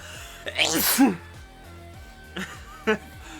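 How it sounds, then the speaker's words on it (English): A single loud, close sneeze from a man mid-game, a sharp burst of breath and voice, followed a little later by a couple of short vocal noises. "I might sneeze, too"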